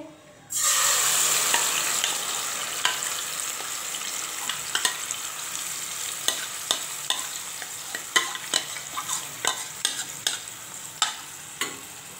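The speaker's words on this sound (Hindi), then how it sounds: "अभी मैं इसमें कलेजी ऐड करूँगी। ये मटन की कलेजी है।" Mutton liver dropped into hot ghee in a pan, hitting with a sudden loud sizzle that keeps going under repeated sharp clicks and scrapes of a utensil stirring the pieces.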